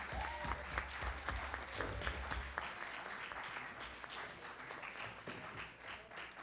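Sustained applause from an audience at an education conference, a dense wash of many hands clapping that carries steadily throughout without fading.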